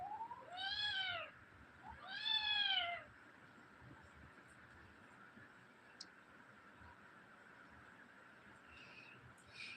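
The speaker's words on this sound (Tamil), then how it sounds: "பூனை சண்டையை பாருங்கள்" Two loud, drawn-out cat yowls, one after another, rise and fall close by like a fight standoff, followed by a faint quiet background with a soft distant chirp.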